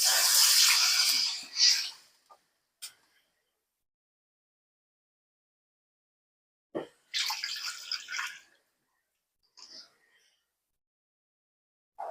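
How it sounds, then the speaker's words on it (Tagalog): Water poured from a tap into a pot of pork bones for soup, two loud hissing splashing bursts separated by quiet, with faint drips afterward. "Lagyan na natin siya guys ng tubig."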